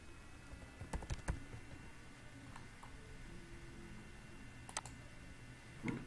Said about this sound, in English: You type a control panel.